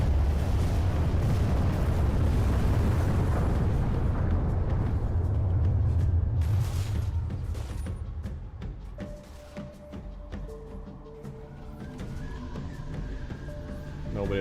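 A destructible Covenant spire in Halo 3 multiplayer blows apart with a sustained loud, rumbling roar of debris firing out, then fading into scattered crackles, pops and lighter ringing tones.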